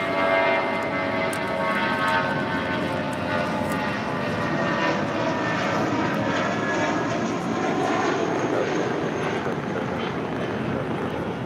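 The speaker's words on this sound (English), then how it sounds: "This is JetBlue Airways Flight 1570 departing to Cancun on an A320" A JetBlue Airbus A320 departs for Cancun with a loud, sustained jet engine roar that stays broad and steady from start to finish, with no talk over it.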